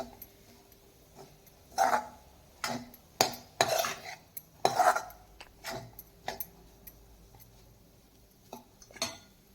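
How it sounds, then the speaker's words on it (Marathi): A spoon stirs and scrapes a jackfruit vegetable curry with coconut in a pan, making irregular metallic clinks and scrapes, close and clear, with short pauses between strokes. "त्यामध्ये आता मी घालून घेते खोबरं पुन्हा एकदा सर्व भाजी एकत्र करून घेते"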